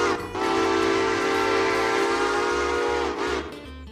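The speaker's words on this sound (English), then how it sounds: "Yeah, that would be his train" A train in a modded logging railroad simulator game sounds a long, loud, steady whistle blast of about three seconds, with rumbling rolling stock underneath.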